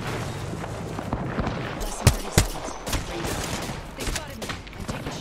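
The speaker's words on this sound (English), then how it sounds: "why are you shooting me from height?" Gunshots in Apex Legends during a scrim match, with two sharp near cracks standing out over a dense, steady bed of distant fire, footsteps and game noise.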